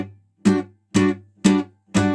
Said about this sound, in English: Usually you're going for a staccato percussive effect.